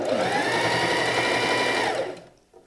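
A sewing machine stitching through layered fabrics while upcycling clothes runs as a steady, loud whirring hum with fast mechanical chatter for about two seconds, then slows and stops.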